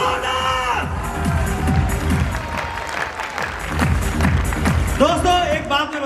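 A seminar audience at a success speech breaks into loud, sustained clapping and cheering, filling the hall throughout, with a voice calling out over it.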